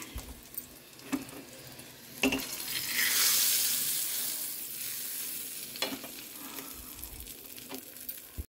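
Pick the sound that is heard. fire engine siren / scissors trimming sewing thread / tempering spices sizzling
tempering spices sizzling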